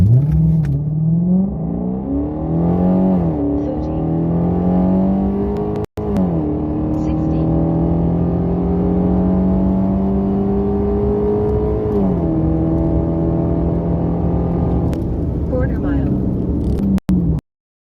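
A Ford Mustang 5.0 V8 with traction control on, fitted with 275/45R18 Pirelli P Zero tyres, accelerating hard from 0 to 60, with a loud engine rising through the gears and dipping at each shift, heard from inside.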